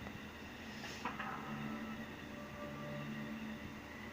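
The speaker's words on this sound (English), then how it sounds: "And here is Amtrak Southwest Chief." An Amtrak Southwest Chief passenger train, led by three locomotives and trailed by a Pennsylvania private car, rolls past at a distance in a steady, faint rumble with a thin tonal whine running through it.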